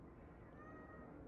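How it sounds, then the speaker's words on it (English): A cat at the door gives one faint, thin drawn-out meow, nearly buried under a loud, steady low rumble of background noise. "Oh no, here comes my cat. He's at the door"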